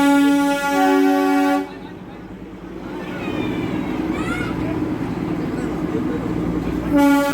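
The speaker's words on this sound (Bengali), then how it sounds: "দুবার বাঁশি বাজে আর একরাশ কালো ধোঁয়া ছেড়ে ট্রেন চলতে শুরু" A Darjeeling toy train sounds a long, loud whistle, goes quiet for a beat, then rumbles and clanks as it starts to move, with a second whistle blast near the end.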